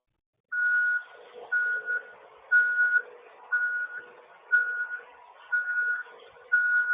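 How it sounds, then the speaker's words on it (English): A steady electronic beep repeats about once a second, each tone evenly spaced and moderately loud, heard over a Discord voice call, with nothing else around it. "Somebody has beeping noise in the background."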